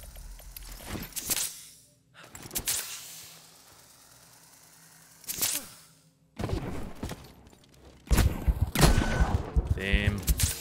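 Gunfire in a shooter video game, heard as several sharp, loud cracks spaced apart, with a dense burst of shots near the end over low ambient noise.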